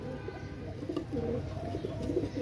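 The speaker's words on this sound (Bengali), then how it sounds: "আসলে খুবই চঞ্চল কবুতর।" Pakistani pigeons, a lively pair kept for sale, coo in soft, repeated throaty rolls close by, over a low background hum, with no talking.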